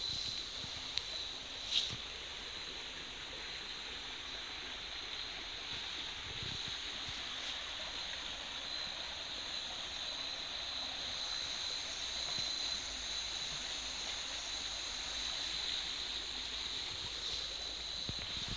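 Steady flowing water from a riverside stream, a continuous broadband rush with no voices, heard alone at moderate level throughout.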